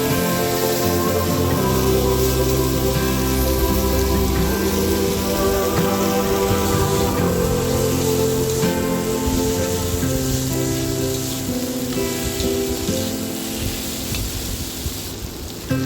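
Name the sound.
potatoes frying and sizzling in oil in a pan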